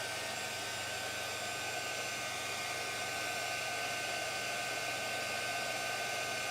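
A heat embossing tool blows hot air over metallic embossing powder, making a steady, close whooshing fan roar like a hair dryer that runs unbroken throughout.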